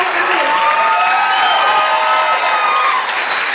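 A live crowd cheers and applauds steadily at a music performance outside the Douglas Loop Heine Brothers coffee shop in Louisville, a dense, loud wash of clapping and voices that holds for the whole stretch.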